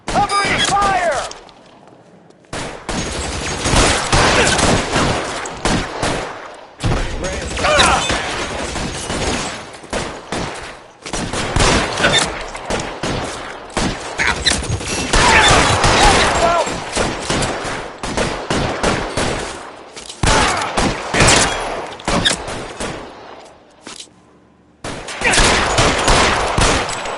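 A video game shootout with repeated bursts of gunfire and heavy shots comes in loud clusters separated by brief lulls, with voices shouting over the shooting.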